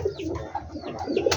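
Pigeons coo softly and repeatedly at close range, layered murmuring calls overlapping in a steady flock chorus with faint rustling underneath.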